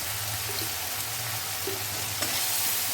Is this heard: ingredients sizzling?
yes